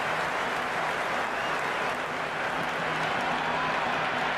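Crowd at a cricket match in a video game, a dense continuous roar of cheering and clapping that holds steady throughout at moderate level.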